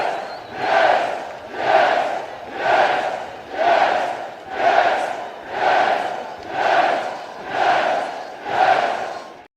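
A crowd-cheering sound effect fired off again and again from a button, nine identical swelling bursts of roaring voices in an even rhythm, each rising and fading before the next.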